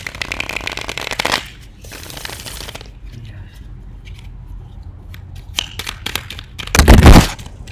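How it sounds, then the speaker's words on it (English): Tarot cards being shuffled by hand in bursts of riffling and flicking, close and crisp, with brief pauses and a louder flurry near the end. "Get 3 shuffles and 3 cards to pop."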